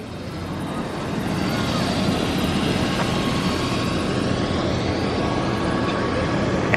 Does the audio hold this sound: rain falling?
no